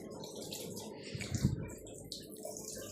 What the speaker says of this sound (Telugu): ముందైతే కలబంద మొక్కకి వాటర్ పోసుకుంటున్నా